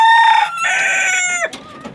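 A rooster of an aggressive breed crows loudly and close by, a single sustained call that breaks off, followed by a brief clucking rustle.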